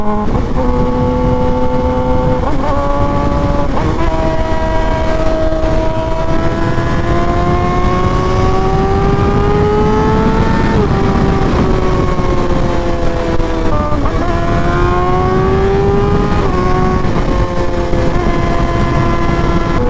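A Suzuki GSX-R sport motorcycle, raised up and being ridden, keeps a loud, close engine drone that climbs and falls through throttle changes and shifts, steady for the whole stretch with no talk.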